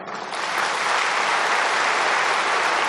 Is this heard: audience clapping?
yes